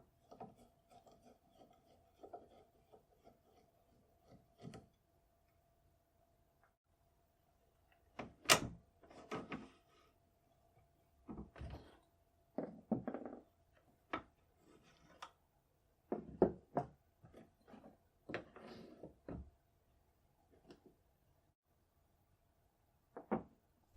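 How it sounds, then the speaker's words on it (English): A screwdriver works the bolt stop screw on an old, dirty French Gras rifle, giving scattered faint metallic scrapes and short grinding rasps at irregular intervals, close up and quiet, with a faint steady hum and no talking. "Next, I'll remove the bolt, starting with the bolt stop screw."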